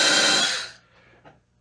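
Milwaukee M12 cordless band file sanding with just its tip, a loud close whirring rasp that winds down and fades out, followed by a faint small knock.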